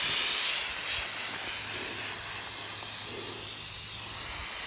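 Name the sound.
spraying a coating from a spray can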